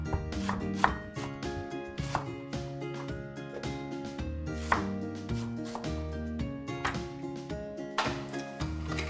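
Onion being chopped on a board for Igbo abacha (African salad), with a handful of sharp knife strikes at irregular intervals under steady background music.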